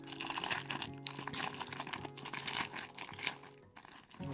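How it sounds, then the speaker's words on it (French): Cardboard box and plastic packaging unwrapped by hand during a cross-stitch subscription box unboxing, giving close, continuous crinkling and rustling with a few sharper crackles and tearing bits, with no talk. "Donc je vais commencer à la déballer pour vous."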